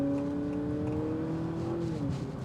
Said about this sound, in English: Motivation for the vehicle, if you mash on the gas.